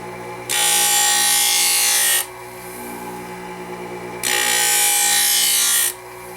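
A Bauer Volt ice skate blade ground on a Wissota 911 sharpener, two long loud bright grinding passes with a quieter motor hum running between them, close up and with no voices.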